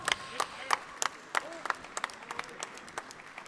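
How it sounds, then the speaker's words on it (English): Scattered, sparse clapping from a small audience at a sim racing expo prize ceremony, faint and irregular, with individual claps standing out rather than a full ovation. "This is your applause."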